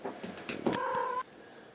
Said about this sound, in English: There's a cat doing a drive-by.